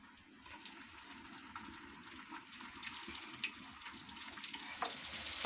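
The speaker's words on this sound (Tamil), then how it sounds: "ஆயில் கொஞ்சம் ஹீட் ஆனாலும் அதில் வந்து இந்த சிக்கன் பீஸ்களை வந்து இப்படி வச்சிடலாம்" Chicken pieces fry in hot oil for a biryani, giving a steady close sizzle and crackle with brief pops, and no voices are heard.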